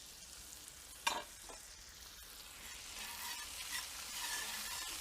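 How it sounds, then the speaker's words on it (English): Onion and bacon frying together in a pan on a Big Green Egg grill, a quiet, steady sizzle with a sharp pop near the start and a gradual rise in crackle toward the end. "while the onion and the bacon is cooking here"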